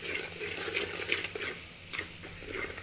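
Water pours into a pan of ridge gourd curry cooking on the stove, a light trickle and splash over a faint sizzle, with a few soft stirring clinks.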